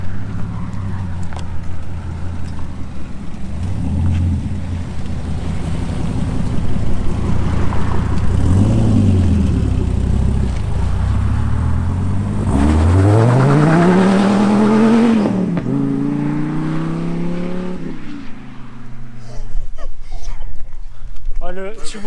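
Dodge Viper supercar accelerating hard away from a rally start: a loud, rising engine roar sweeps up through the gears as the car pulls away, heard from the side of the road, with people talking over it.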